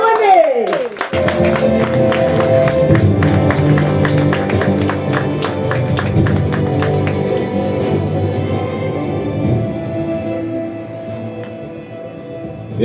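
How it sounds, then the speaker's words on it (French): A crowd claps loudly and continuously in honour of the mayor of Le Carbet at a community conference, a dense wall of hands that swells after a spoken introduction and slowly thins toward the end. "Un tonnerre d'applaudissements pour monsieur Louis-Léonce"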